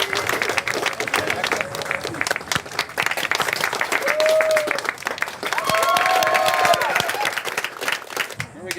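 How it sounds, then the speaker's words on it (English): A crowd claps and cheers for a homemade 3D-printed Glock build, a steady wash of applause with a few raised voices rising over it midway. "Applause."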